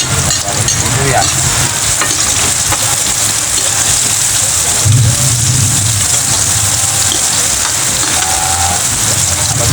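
Garlic sautéing in a pan as onion joins it, a steady sizzle with stirring scrapes running throughout, close and fairly loud, with no voices.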